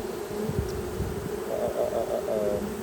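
Bees fan and return to the entrance of a hive being rescued from a 1950 Chevy pickup, giving a close, low droning buzz with wingbeat pulses and a brief higher whine.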